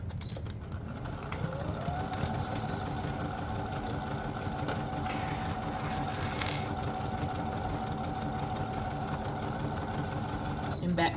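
Sewing machine stitching a dart, ending with a backstitch, runs as a steady continuous hum with a sustained tone for most of the stretch, fairly close and even.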